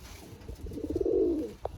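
A Giribaz pigeon gives a single low, rolling coo from close by in a loft, followed by a brief soft click.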